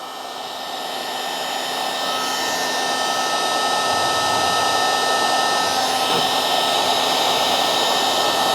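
A heat gun blowing hot air onto a solder stick connector on a wire, a steady close whooshing roar that swells slightly at the start and then holds constant, with no talking.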